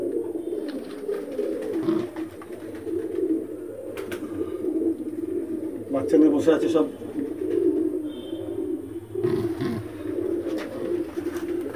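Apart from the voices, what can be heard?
Pulsar breed Madrasi pigeons cooing with chicks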